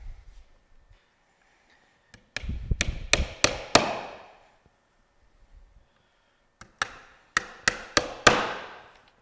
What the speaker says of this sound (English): start your nails and then hammer them right in